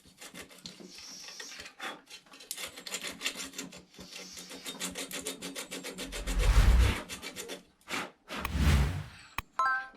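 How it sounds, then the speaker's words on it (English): Sandpaper rubs back and forth on a metal crankshaft in uneven rasping strokes, close and fairly quiet, with a couple of louder scraping bursts toward the end. "So just give it a bit of a sand off, a bit of sandpaper."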